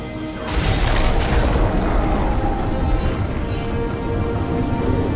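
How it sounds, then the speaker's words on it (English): A loud booming blast as a turret is destroyed in League of Legends, opening with a sharp hit and settling into a dense, sustained rumble that fills the whole few seconds. "Blue team's turret has been destroyed."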